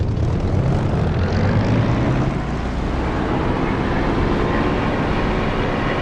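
In the DCS flight simulator, an aircraft's piston engine and propeller roar loudly as the throttle comes up, a heavy, continuous drone whose pitch shifts during the run-up.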